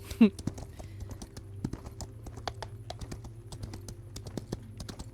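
Horse hooves clip-clopping in a video game, a steady, close, even run of hoof clops lasting the whole stretch, with a brief louder knock near the start.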